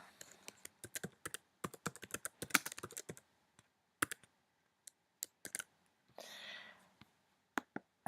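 Computer keyboard keys click in quick irregular taps while text on a landing page is edited, close and quiet, with short pauses between bursts of typing.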